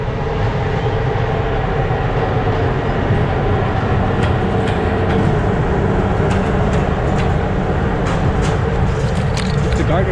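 An electric freight train on the Balkan route rushes past at speed, a loud, steady roar of wheels and rumbling wagons filling the whole span, with brief metallic squeals and clanks riding on top and voices faintly under it.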